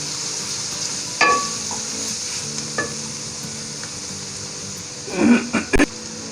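Onions and spices fry in a pot of oil, a steady sizzle broken by a few sharp scrapes and clatters of stirring, loudest near the end.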